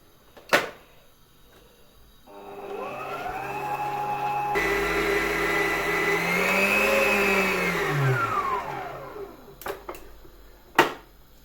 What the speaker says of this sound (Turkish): yumurtamla irmiğimi güzelce çırptım